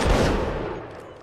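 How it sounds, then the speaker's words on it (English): Muskets fire in a single roaring volley during a video game line battle, a loud, dense burst of overlapping shots that decays over about a second. "Hold, left face, take aim. Fire."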